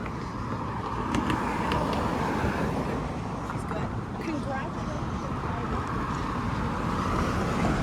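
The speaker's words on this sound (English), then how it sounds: "that is the train you're hearing" A subway train pulls into Castle Frank station in Toronto, a steady broad rumble with a faint higher whine, heard from the street over constant traffic and wind noise.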